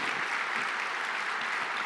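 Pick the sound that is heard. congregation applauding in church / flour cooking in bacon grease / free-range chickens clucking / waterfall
congregation applauding in church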